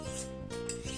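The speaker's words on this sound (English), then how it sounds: "slide your knife through all of the back of the other knife" Steel knife blade drawn along the back of another knife, two quick rasping scrapes in a row, close and clear with a thin metallic ring.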